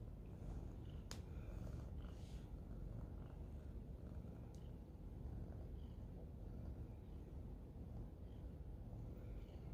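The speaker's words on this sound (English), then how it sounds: "I hope you guys can hear these purrs." A steady, low rumbling purr continues close to the microphone for the whole stretch, soft and even, with a faint click or two.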